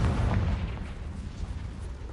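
Confringo blasting spell explosion in Hogwarts Legacy, a low rumbling boom that rolls and decays over a couple of seconds, heavy in the bass and without talk.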